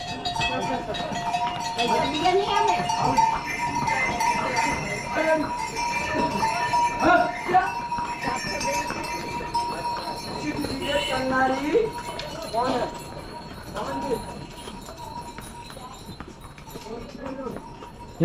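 Pack horses carrying loads along the Kedarnath pilgrimage trail, hooves clip-clopping steadily at close range with faint bell jingles, under continuous talk and crowd noise.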